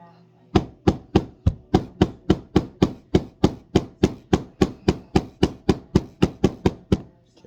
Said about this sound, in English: Hit the nails, right?